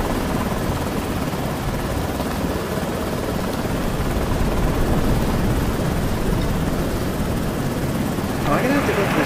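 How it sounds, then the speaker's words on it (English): A helicopter flies over a ship in a horror video game, its steady loud rotor and engine roar constant throughout, with a brief extra burst of noise near the end. "There's nowhere to put the helicopter down."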